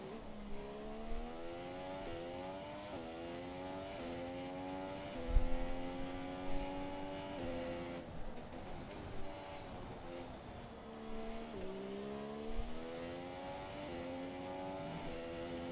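F1 2017 race cars lapping the Hungary circuit in a social race just after a green-flag restart, engine notes rising and falling through gear changes, steady and continuous with no talk.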